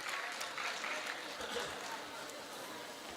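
Steady applause from an audience at a Punjabi literary festival session for Nain Sukh, a dense wash of clapping that holds for several seconds and then gradually softens.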